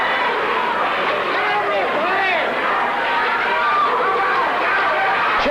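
Capacity crowd at a wrestling arena, a dense roar of chatter and babble filling the space continuously, with scattered shouts rising out of the steady hubbub.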